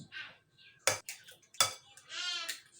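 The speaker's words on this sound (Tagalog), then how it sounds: "Halo lang natin ang ating itlog." Eggs being mixed in a bowl for banana pancakes: two sharp utensil clinks against the bowl stand out, surrounded by softer scraping and stirring swishes, close and fairly quiet with no talking.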